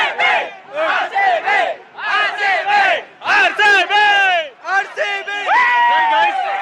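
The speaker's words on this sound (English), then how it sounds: "You can see huge crowd" A huge crowd of RCB fans gathered on the road near Chinnaswamy Stadium shouts and chants in loud, rhythmic bursts of many voices, rising and falling in waves while waiting for the team bus.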